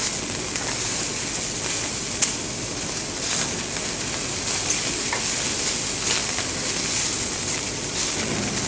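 Broccoli and other vegetables sauté in a hot pan, giving a continuous close sizzle with occasional stirring clicks, steady and without talk.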